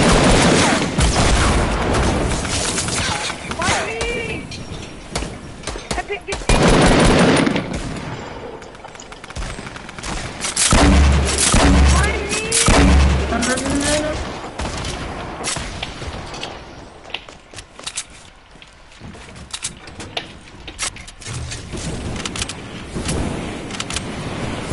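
Rapid gunfire in the shooter game Fortnite, repeated bursts and single shots crackling loudly throughout, mixed with booms and other busy game effects.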